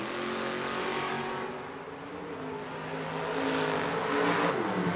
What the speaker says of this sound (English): Kessler, 676 to dial in for the 72 Duster